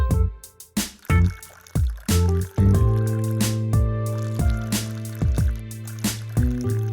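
Drinks poured from a bottle into several glasses at a casual gathering of friends, with repeated short gurgling pours and glugs that rise and stop, close and clear with no talk over them.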